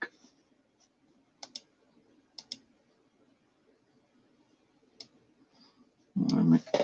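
A computer mouse clicks a few times, single clicks and quick doubles spread sparsely over a quiet room, with a louder burst of voice or noise closing out the moment.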